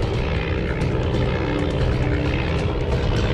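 Propeller warplane engine in the video game Flying Tigers: Shadows Over China, a loud, continuous droning roar with steady rumble and buzz, heard alone without voices.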